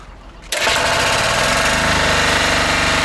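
A motoblock walk-behind tractor engine starts up abruptly and runs loud and steady nearby, a dense rattling drone with an even mechanical pulse and no talk over it.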